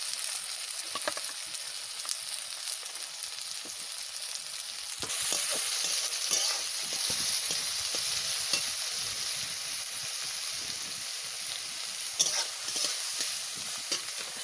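Cabbage and onion sizzling in a hot pan for chowmein, a steady loud frying hiss that swells as more vegetables go in, with faint stirring clatter.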